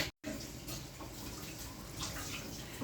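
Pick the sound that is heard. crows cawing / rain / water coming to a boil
water coming to a boil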